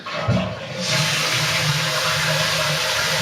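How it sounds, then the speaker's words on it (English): A toilet at an ashram flushes with a loud, close rush of water that starts after a brief pause and roars steadily to the end, with no voices. "basically, you flush the toilet."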